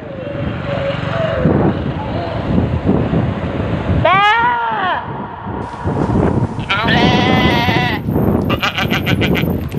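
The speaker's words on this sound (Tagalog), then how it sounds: "May kambing po." Goats bleat several times nearby, with wavering cries in two bursts over a background of rushing wind or surf and faint voices.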